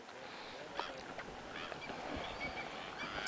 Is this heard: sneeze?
no